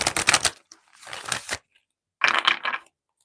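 Oracle cards being shuffled by hand in three crisp bursts of riffling and rustling, close and fairly loud, separated by short pauses.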